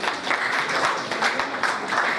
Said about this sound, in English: Papa, clap for her.